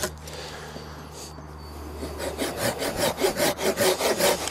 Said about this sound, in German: Wie lang ich es gemütlich säge.